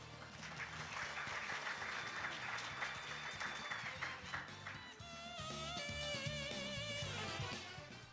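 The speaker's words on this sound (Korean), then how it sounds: "큰 박수와 함께 단상으로 모시겠습니다." Audience applause fills a conference hall as the organizing committee chair and KTDS CEO is welcomed to the stage at an open-source software developer awards ceremony, steady clapping throughout with some voices and music-like tones rising near the end.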